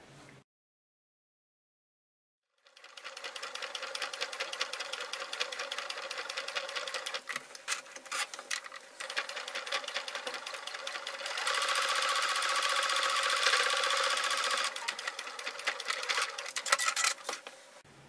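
An electric sewing machine stitches a short seam along the edge of a fabric wallet, running in a close, continuous rapid clatter after a brief pause, with slight changes in speed and no talking.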